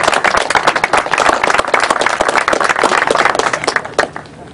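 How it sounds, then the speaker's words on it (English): Audience applause fills the space with dense, continuous clapping from a large crowd at a community event, steady and loud before thinning out near the end. "So I want you to all give yourself a round of applause,"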